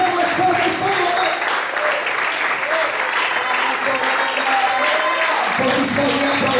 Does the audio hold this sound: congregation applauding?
yes